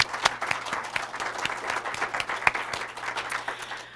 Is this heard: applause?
yes